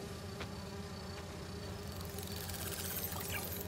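Virtual bee wolves buzz in Marvel's Spider-Man 2 during an entomology mission: a steady, close insect drone with a thin high whine rising near the end, alone without speech.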